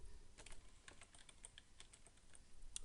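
Quick, light keystrokes tap on a computer keyboard in an uneven burst, faint and close, with no talking.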